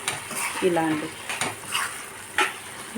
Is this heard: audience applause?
no